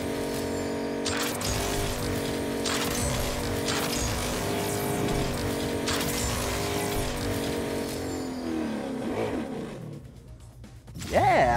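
Car engine in the video game Agents of Mayhem, a loud steady roar with rising and falling revs and brief shifts, ending in a sharp rev-up, with game voices talking over it.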